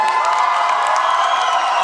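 A school freshers' ball audience cheers and applauds in a dense, continuous roar of clapping and shouting, with no pause.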